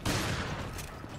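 Shotgun blast in the video game Resident Evil Revelations: one loud, close, broadband boom with a rapidly fading rumbling tail.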